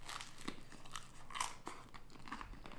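Bites and chewing of a crunchy sandwich dipped in soup, eaten close to the mic: a handful of crisp crunches in uneven rhythm, fairly quiet, with no talk.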